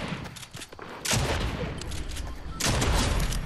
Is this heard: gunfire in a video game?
yes